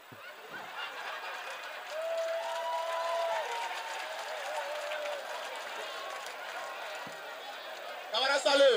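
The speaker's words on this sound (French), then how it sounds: "on applaudit spécialement pour Maman Synergie" Applause at a meeting, a continuous patter of clapping with crowd murmur running under it, with voices audible throughout and a louder burst at the end.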